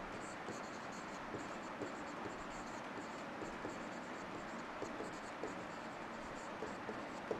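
Chalk or marker writing on a board during a civil engineering lecture, soft scratchy strokes with light taps, faint and under the lecturer's voice.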